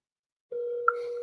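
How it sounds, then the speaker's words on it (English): A telephone tone starts abruptly after half a second of silence, a steady pure tone held to the end with a brief brighter blip partway through, clean and close. "I'm gonna make one more dial right now"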